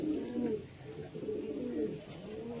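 Pigeons kept for sale coo in soft, repeated throaty rolls close by, overlapping phrases across a few seconds with no talking.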